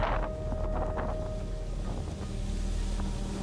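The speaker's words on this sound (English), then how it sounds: "Look how windy it is." Strong wind blowing across an island at sunset, a constant roaring buffet against the microphone with low rumbling gusts, steady and loud throughout with no talking.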